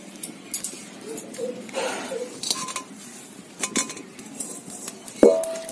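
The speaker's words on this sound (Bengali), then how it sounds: "এবার কড়া বসাবো।" A metal kadai set down on a gas stove for cooking dal, with scattered clanks, clinks and scrapes of cookware nearby, and one sharp metallic knock near the end.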